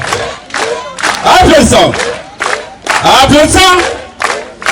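An audience claps and cheers in loud bursts with shouting voices, with two strong swells separated by short pauses, all close and crowded.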